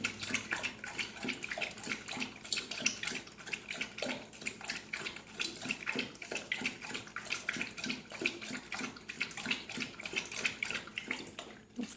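A puppy named Mickey laps water from a bowl in a steady, rapid wet splashing rhythm that runs throughout, close and moderately loud with no talking.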